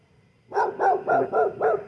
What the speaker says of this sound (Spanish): quién sabe de quién será esta pinche perra